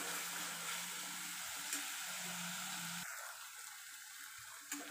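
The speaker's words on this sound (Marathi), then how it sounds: "मीडियम गैस पर एक दी 3 मिनट मस्त फ्राई कर ले दी चुमा" Tripe (ojari) fries in oil over a medium gas flame, giving off a faint, steady sizzling hiss with occasional soft pops.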